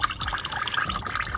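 Coolant water running out of a detached quick-release radiator hose connector on a 2014 Audi A8 D4 3.0 TDI, a short, close, steady splashing trickle with no speech.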